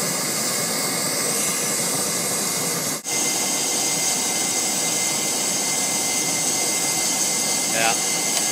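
A swirl gas burner flame fed with forced air roars as a steady, dense, close rushing hiss, unbroken apart from one momentary dip, with no talking.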